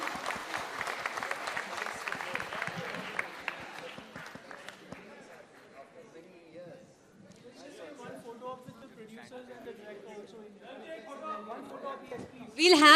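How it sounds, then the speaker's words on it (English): A crowd at a Bollywood film trailer launch claps hard for a few seconds. The clapping fades under an announcer's amplified voice and crowd chatter, then a loud burst returns at the end. "Give them a huge round of applause,"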